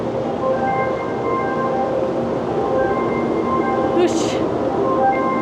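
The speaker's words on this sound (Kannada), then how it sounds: "train is now arriving at platform arriving" A Taiwan high-speed bullet train rumbles steadily arriving at a platform, with a continuous low hum, faint tonal whine and a brief high squeal near the end.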